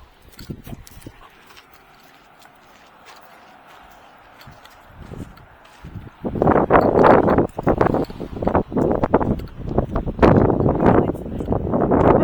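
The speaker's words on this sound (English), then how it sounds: "it's really windy" Strong gusts of ocean wind at Narragansett Beach, Rhode Island, buffet the microphone in loud, roaring bursts after a quieter stretch, with faint rustling underneath.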